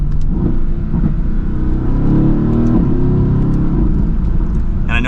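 A 2016 Mercedes-AMG GT S with a twin-turbo V8 and top-mounted turbos gives a deep, loud, steady engine rumble under acceleration from inside the car, with a voice talking over it near the end.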